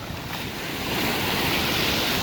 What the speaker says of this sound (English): There's a big wave coming.